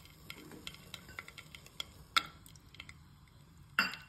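Cashews frying in ghee in a pan, stirred with a spoon: quiet scraping and light ticking clicks repeat steadily over a soft sizzle, with two sharper metallic knocks standing out.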